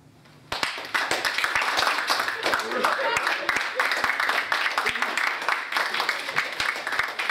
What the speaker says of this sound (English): let's take a round of applause for both our candidates